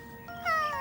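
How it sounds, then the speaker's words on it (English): A cat gives a single short, high meow, rising and clear, close and alone. "Like a cat's meow."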